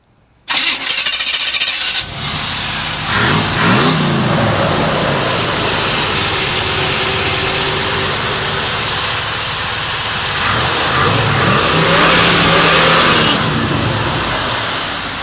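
Engine of a 1985 Chevrolet Monte Carlo cranking and catching with a loud start, then settling into a rough idle punctuated by several rising revs, close and loud throughout.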